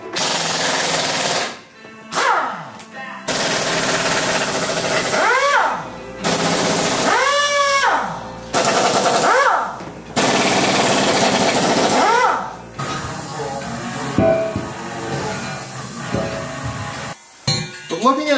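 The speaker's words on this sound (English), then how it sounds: "I haven't used my air tools much, so this would be a good opportunity." A pneumatic air tool works on a broken Boss snowplow bracket, firing loud close rattling bursts with rising and falling whine sweeps, stopping and restarting several times.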